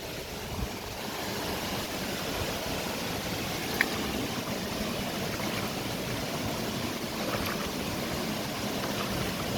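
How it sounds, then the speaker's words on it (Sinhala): Water pours steadily over the Henry Parker annicut weir at Bathalegoda, making a continuous broad rushing roar with light wind buffeting on the microphone and no voices. "මෙතනින් තමයි වතුර යන්නේ."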